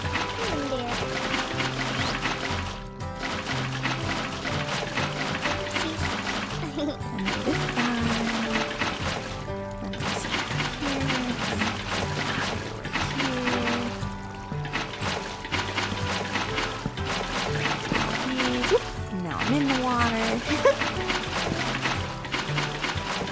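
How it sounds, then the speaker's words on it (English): Water splashes steadily in a moat being built in the game Minecraft, a continuous watery churn mixed with layered game sounds throughout. "Oh, you can hear all the splashing of the moat."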